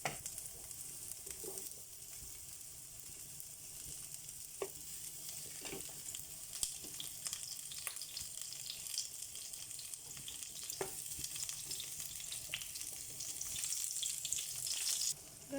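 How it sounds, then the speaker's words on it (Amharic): A sandwich fries in olive oil in a hot pan, a soft continuous sizzle with occasional faint clicks and scrapes, fairly quiet and steady throughout, no talking. "ወይራ ዘይት አረግበታለሁ። እናንተ ማንኛውም ዘይት ያላችሁን መጠቀም ትችላላችሁ። እንደዚህ መጥበሻው ላይ ቁጭ እናደርጋለን"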